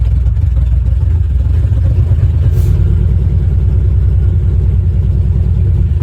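A Nissan Pathfinder with a ported intake and a brand new clutch revs its engine up close, a loud steady rumble with clattery mechanical texture rising and holding throughout, no voices.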